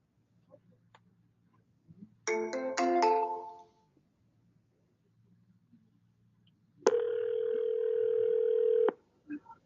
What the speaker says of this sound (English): and Adam will be receiving a call from a 989 in the phone number.